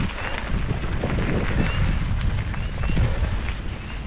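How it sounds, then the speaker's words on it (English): Strong wind buffets the microphone outdoors beside a railway line, a constant low rumbling roar with gusty surges that never lets up. "the wind is coming from the west, so we're going right into it"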